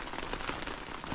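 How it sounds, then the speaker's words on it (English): Rain and gusting wind hitting a sheltered bivvy camp during a storm, a dense steady patter and hiss close by with no voices. "as you can hear, the wind and the rain has picked up"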